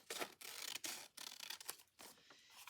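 Scissors snip through an old paper envelope in a handful of quick close rasping cuts separated by brief pauses.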